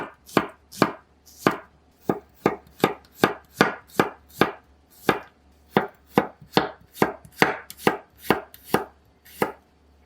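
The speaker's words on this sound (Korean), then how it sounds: "마늘 한 컵은 얇게 슬라이스 하세요." Knife thinly slicing a cup of garlic on a cutting board, about twenty crisp, evenly paced chops ringing out close and clear with nothing else around them.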